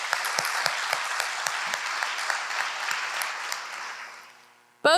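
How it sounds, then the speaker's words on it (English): An audience at a State of the County address applauds a county commissioner, a steady round of clapping that fades out before a voice begins to speak. "Please join me in another round of applause for Post 2 Commissioner Dr."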